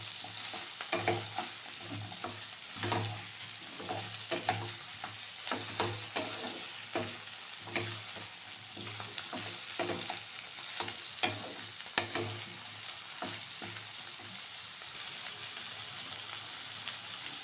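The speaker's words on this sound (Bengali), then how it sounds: "কাঁচা আদার যাতে গন্ধটা না আসে সেই জন্য হালকা করে একটু তেলের ওপর ভাজতে হয়" Chopped ginger fries and is stirred in hot oil for a fish-head and Malabar spinach chorchori, giving a steady close sizzle with repeated scraping stir strokes throughout and no talking.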